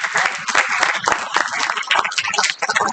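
An audience at an architecture and planning training session bursts into dense, sustained applause, steady clapping from many hands close by, with voices mixed faintly underneath.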